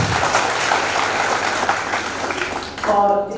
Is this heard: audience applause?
yes